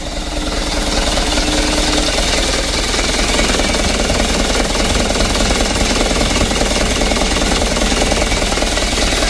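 A Mitsubishi Canter truck engine runs with heavy shaking, and its revs are slow to drop. It makes a loud, close, continuous rattling rumble that stays even throughout, with no voices.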